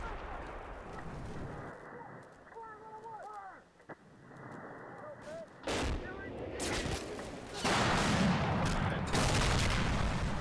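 Muffled distant booms and rumbling blasts of video game mortar shells bursting in the air and raining shrapnel build toward louder, closer explosions with crackling debris near the end.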